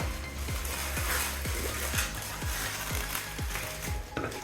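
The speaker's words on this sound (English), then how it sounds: "Make sure you tie it off." Rubber squeaks sound again and again as a latex balloon is twisted and tied off for a platypus balloon animal, with sharp, close squeals about every half second over a low background.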